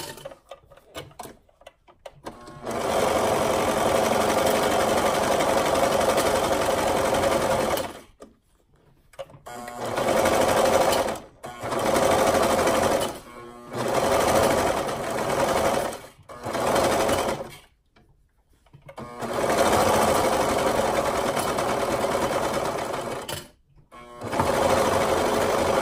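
A home sewing machine stitches a gathered skirt piece in several long runs of steady, fast, rhythmic whirring, separated by short pauses, close and fairly loud with no talk.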